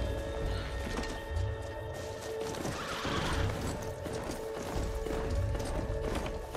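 A horse in Horizon Zero Dawn whinnies and clip-clops along with steady hoofbeats, fairly close, over a continuous bed of game ambience and music.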